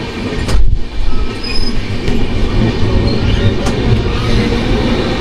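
Two trains crossing at Ambala Cantonment Junction as the Gurumukhi Express passes the Gangasagar Intercity Express, with a steady loud rumble of wheels and carriages and a few high squeals and clatters throughout.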